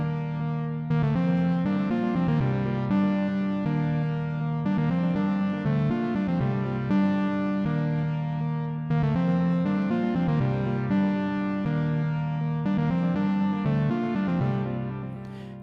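A split-semitone lead synth patch built in Ableton plays a wavering, slightly detuned melodic line with a warm, steady tone and no pauses.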